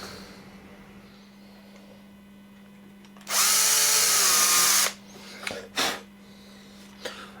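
A small drill with a fine 1.25mm bit runs in one steady high whine for about a second and a half, followed by a couple of short clicks and a faint hum.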